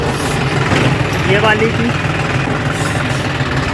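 A combine harvester engine runs steadily during a rice harvest, a loud continuous mid-to-low rumble heard up close, while someone talks over it.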